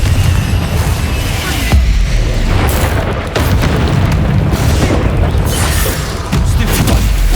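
Repeated fiery Confringo spell blasts in Hogwarts Legacy on PS5, a dense run of loud booming explosions and crackling bursts layered over game combat noise, with no pause between impacts.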